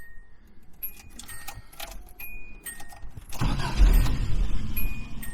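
The original warning dinger of a 1985 Subaru Brat GL chimes in a quick series of high tones amid key jangles and clicks, then the engine starts with a low, steady rumble.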